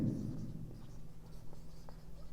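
Marker or chalk writing on a board during a Class 10 statistics lesson, a soft scratchy stroke sound heard faintly near the start with low room hum and no talk.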